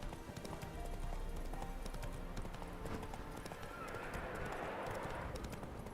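Roach the horse galloping in The Witcher 3, with rapid rhythmic hoofbeats and a whinny, loud and continuous in the game.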